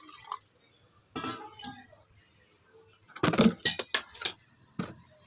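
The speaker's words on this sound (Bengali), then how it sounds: "আমি চিনি আর এর ভেতরে একটু জল দিয়ে দেব।" Water is added to sugar in a mixer jar in a kitchen, giving short, close splashy pours and clinks, with a brief burst early and a denser cluster of splashes and knocks later.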